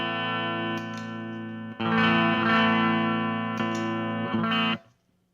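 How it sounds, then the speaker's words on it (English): Electric guitar through a NuX Kompressor compressor pedal rings out sustained, evenly levelled chords, a few strums blooming into long held notes before a quick cutoff, played alone and up close. "we turn it on, and we get our instant compression sound"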